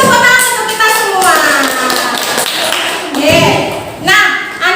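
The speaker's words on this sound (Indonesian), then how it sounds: "Beri tepuk tangan untuk kita semua." Children in a primary school classroom clap together in a loud burst of applause at the end of a lesson, with chanting voices and rhythmic claps filling the room.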